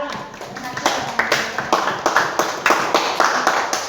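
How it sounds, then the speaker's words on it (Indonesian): Classmates in a school lesson clap for a student group after its simple flashlight project, a fairly small group of hands beating in a quick, roughly steady rhythm, close and loud, with a few voices mixed in at the start. "Kita kasih tepuk tangan untuk kelompok 2."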